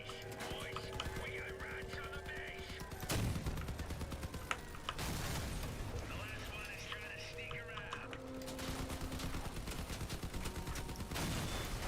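Video game gunfire crackles through dense, continuous battle noise with bursts and sustained rattling, loud and full-range, while whirring mechanical tones drift underneath.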